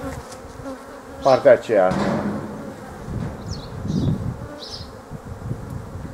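Honeybees buzz around a hive during beekeeping work, a low, wavering drone close by, with someone speaking briefly over it early on.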